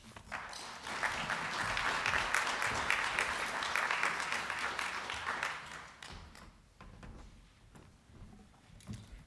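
An audience at an innovation summit's welcome plenary claps to greet a speaker coming onto the stage, a full steady round of applause that swells, holds for several seconds and then thins out to scattered claps.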